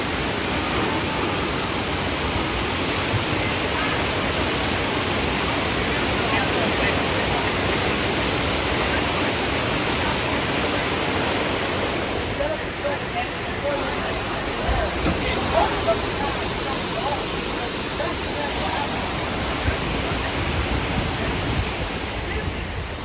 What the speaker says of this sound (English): There comes some water. It's gonna splash on us.